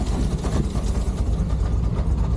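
A Renault R8 Proto engine idles roughly and only just keeps running, a steady, loud low rumble with an uneven, lumpy texture filling the whole clip with no talk.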